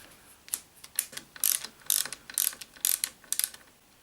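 A ratchet wrench loosening a 10mm bolt on a motorcycle brake or clutch lever of a Yamaha YZF R3, giving quiet, close clicking bursts in a steady back-and-forth rhythm, about eight strokes.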